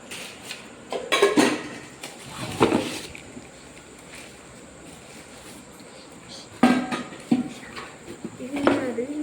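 A 5.5 litre pressure cooker lid is handled, giving a few close metallic clanks and knocks in bursts separated by quieter gaps, with faint background room noise.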